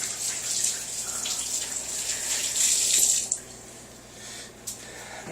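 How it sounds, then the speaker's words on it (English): Tap water runs steadily while hands are washed under it, a close, even splashing hiss for several seconds that eases off near the end, with a few small drips and knocks in a kitchen. "let me wash my hands real quick."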